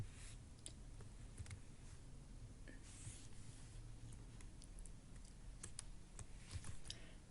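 Quiet typing on a computer keyboard while a quiz is built, an uneven patter of soft key clicks with a few sharper taps scattered across the span, close but faint, with no talking over it.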